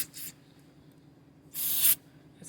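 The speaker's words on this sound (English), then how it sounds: "Just going to spray a little bit of carb cleaner in there." Carb cleaner sprayed onto a Kohler engine carburetor in two short hissing bursts, a quick one and then a longer, louder one, close to the microphone in an otherwise quiet space.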